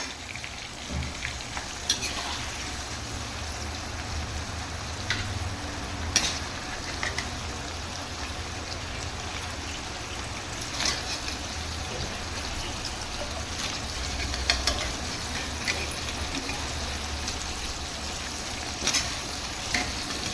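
Paneer pieces fry in hot oil, giving a continuous close crackling sizzle with a few sharp pops and stirring clicks, with no voices over it.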